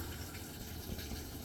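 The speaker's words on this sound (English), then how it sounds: "You're gonna run some water in there." Water running steadily into a washing machine tub, a continuous broadband rush of filling water that holds even and unbroken throughout, fairly close, with no talking over it.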